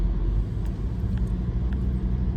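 A budget car worth about £1500 drives around a shuttle area during a European road trip, giving a steady low engine and road rumble throughout with faint higher hiss.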